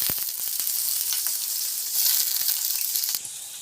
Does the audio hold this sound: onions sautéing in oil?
yes